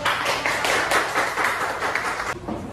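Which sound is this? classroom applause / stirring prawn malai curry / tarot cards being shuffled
classroom applause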